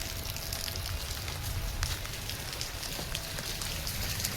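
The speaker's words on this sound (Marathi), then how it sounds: "पाणी बरसात चांगलीच चालू झाली" Steady rain falling outdoors, a dense, continuous hiss with a low rumble and occasional louder drops, unbroken throughout with no speech.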